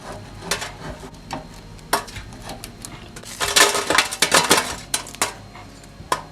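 Thin, crispy dehydrated strawberries are lifted off a Cosori air fryer tray, giving a series of close, bright clinks and scrapes against the tray that grow busier in the middle and then trail off.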